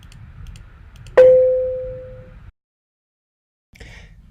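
A single electronic doorbell chime rings out once in a quiet indoor room, a sharp strike that hangs as a clear tone and fades slowly over about a second.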